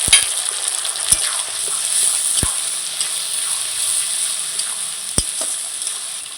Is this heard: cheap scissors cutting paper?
no